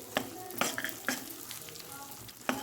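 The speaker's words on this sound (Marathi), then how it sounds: "आपण गव्हाच्या पिठासोबत याला मस्त फ्राय करून घेऊ" Ground edible gum and wheat flour frying in ghee, a quiet sizzle with a few sharp spoon taps and scrapes against the pan at irregular intervals.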